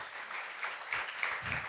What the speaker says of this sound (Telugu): చప్పట్లు కూడా కనిపించండి హల్లెలూయా.